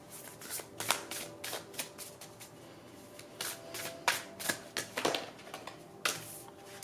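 Oracle cards shuffled by hand, a run of quick crisp riffling bursts and soft paper slaps in an irregular rhythm, close and quiet with no talking.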